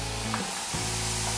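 Watermelon slices sizzle steadily in a hot grill pan, a close, continuous frying hiss with a brief dip partway through.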